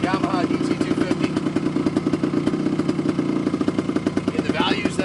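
Two-stroke engine of a 1974 Yamaha DT250 enduro motorcycle running nearby with a rapid, even putter at idle and a slight rise near the end, a voice talking over it.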